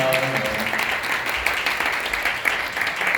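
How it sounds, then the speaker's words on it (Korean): Wedding guests applauding during a small ceremony, a moderate burst of clapping from a limited crowd, with faint voices and room sound underneath. "다시 한번 박수 부탁드립니다."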